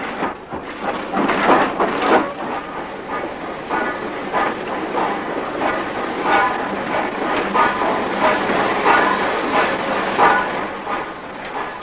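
Railway carriages roll gently along a siding behind LNER B1 steam locomotive 61002 Impala near Whitby, a steady rumble with rhythmic clickety-clack over the rail joints and points and a soft background hiss, continuous and fairly close.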